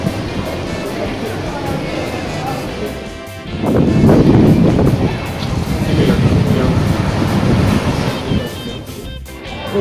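Rough sea surf on Golden Sands beach on a red-flag day, a continuous roaring wash of breaking waves that surges louder midway, with wind buffeting the microphone throughout.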